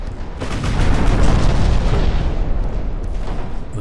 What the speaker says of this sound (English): That was some broadside.